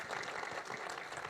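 Applause from an event audience at a song launch, saluting the singer; dense, steady clapping fills the short moment at moderate distance, with no other voices over it.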